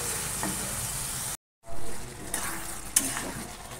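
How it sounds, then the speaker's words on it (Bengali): Ground garam masala and spices sautéing in hot oil in a pan, a steady close sizzle and stir that drops out briefly for a moment of silence before resuming. "গরম মশলার গুঁড়ো দিয়েছি, দিয়ে কষছি"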